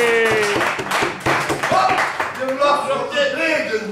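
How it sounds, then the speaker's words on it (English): An audience applauds at a live performance of a song, scattered claps sounding close under a voice that talks and sings over them. "So please give a big round of applause."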